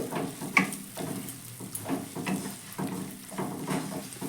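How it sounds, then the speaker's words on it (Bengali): Ground chili and turmeric stirred in a pan, a steady series of soft scraping strokes with a faint sizzle, close and fairly quiet. "এবার গুঁড়ো মশলাগুলো ভালো করে আমি মিশিয়ে নিচ্ছি"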